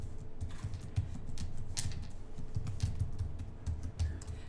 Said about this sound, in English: Quickly type those in.